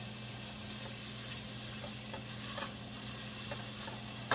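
Chopped onion softens in a hot pan for a ground beef dish, giving a steady close sizzle with soft scraping stirs on top and no talking.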